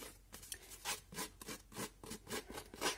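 Large scissors scraping along the edges of a paper card to age it, a close, dry rasping in quick repeated strokes, about a dozen in a steady rhythm.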